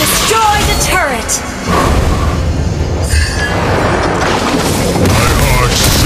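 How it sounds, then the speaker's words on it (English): A turret is destroyed in a multiplayer online battle video game, a heavy booming explosion with rumbling debris, layered over game effects and an announcer's voice. "Your team destroyed the turret."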